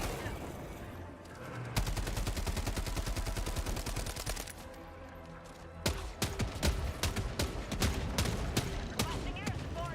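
Dense automatic gunfire from two different weapons in Path of Exile 2, rapid sustained bursts that are loud and continuous, then breaking into choppier separate shots, with a voice talking over it.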